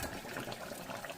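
A pot of Natukodi chicken curry boiling away, a steady close bubbling hiss that carries on alone with no talk.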